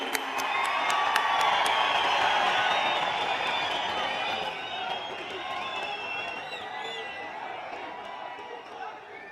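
Large crowd at an address by India's Prime Minister to women in Jammu and Kashmir cheers and applauds loudly and continuously, a dense roar that slowly eases.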